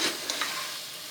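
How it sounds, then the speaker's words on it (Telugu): Spicy mutton gravy curry is stirred in a pan over a soft, steady sizzle, with a couple of faint scraping touches, quiet and close. "మొత్తం ముక్కలన్నిటికీ గ్రేవీ పట్టేలా మనం కలుపుకోవాలి."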